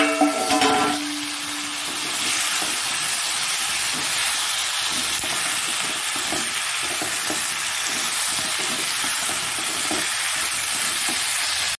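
Potatoes and eggplant fry in a pan with a steady, loud, close sizzle and hiss that runs unbroken, after a brief clatter at the start.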